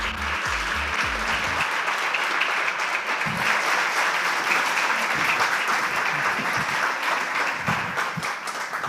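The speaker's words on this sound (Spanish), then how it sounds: "pido por favor un fuerte aplauso para nuestros 3 ponentes literarios" A full audience breaks into loud, steady applause at a live Spanish wine-and-literature event honoring three literary speakers, a dense, even roar of clapping that holds for the whole stretch with a few low bumps underneath.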